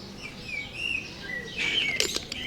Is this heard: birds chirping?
yes